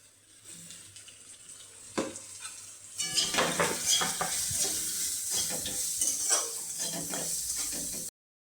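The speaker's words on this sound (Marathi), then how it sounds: "आता लसूण छान असं तळल्यानंतर आपण ह्यामध्ये कट केलेला दोडका टाकणार आहोत." Chopped ridge gourd is tossed into garlic-fried oil and stirred in a pan: a quiet start, a clank, then a loud continuous sizzle with repeated scraping stirs close by.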